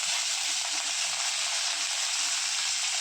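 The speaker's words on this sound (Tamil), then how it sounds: "கொஞ்சம் கடுகு போட்டுக்கிறேன். கொஞ்சம் கருவேப்பிலை போட்டுக்கிறேன்." Mustard seeds and curry leaves sizzle in hot oil with a continuous, even hiss and faint crackle, steady and close throughout with no talk.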